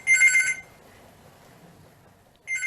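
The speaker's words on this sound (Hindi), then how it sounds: "अरे ये फोन की घंटी, उफ, कितना कष्ट देती है।" A telephone bell rings loudly and close for about half a second, goes quiet through a low background murmur, then starts ringing again near the end.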